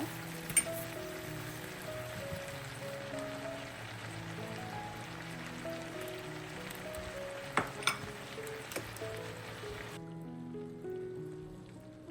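Apple pieces with salt and tamarind sizzle as they are sautéed in oil for a sweet-sour pickle. A faint, continuous crackling sizzle runs under soft background music, with a few brief spoon clicks.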